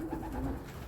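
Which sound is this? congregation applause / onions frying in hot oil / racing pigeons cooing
racing pigeons cooing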